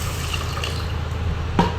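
Water pours over washed rice to soak it for paniyaram batter, a steady splashing fill with a small burst of sloshing near the end.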